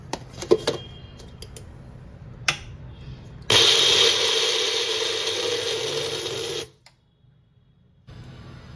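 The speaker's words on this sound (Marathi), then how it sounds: "आता हे आपल्याला बारीक करून घ्यायचं आहे मिक्सरमध्ये" A mixer grinder blitzes sabudana and sugar for a fasting-day ras malai, starting with a few clicks and clatters before a loud, steady whirring grind runs about three seconds and cuts off abruptly.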